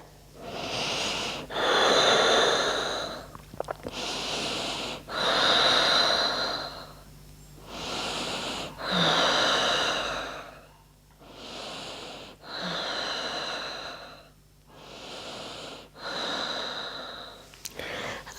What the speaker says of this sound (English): 5 breaths here